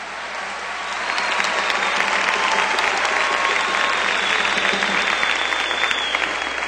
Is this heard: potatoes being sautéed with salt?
no